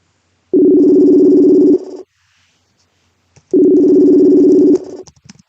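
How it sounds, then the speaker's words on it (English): Telephone calling out, two long steady ringback tones separated by a pause of about a second and a half, close and clear. "I don't know who answered Disabled Wolf's phone"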